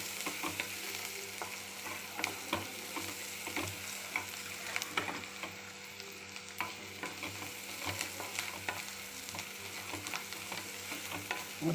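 Ingredients for an egg curry are sautéed in a pan, giving a steady close sizzle broken by frequent light scrapes and clicks of a spoon stirring against the metal. No one speaks.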